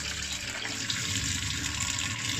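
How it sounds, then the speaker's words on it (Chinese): Shelled shrimp meat gets rinsed clean under running tap water, a steady close splashing hiss that continues evenly throughout with no talking. "然后再把虾肉给清洗干净"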